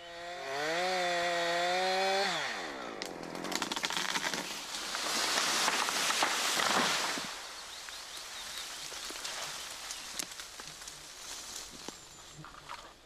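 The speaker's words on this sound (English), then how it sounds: "Keep sawing until the bar is parallel with the directional notch on the other side." A Husqvarna chainsaw rips through a tree trunk during felling, starting with a rising revving whine and then settling into a steady, rough cutting roar with crackling wood. The sound is close and loud, with no voices.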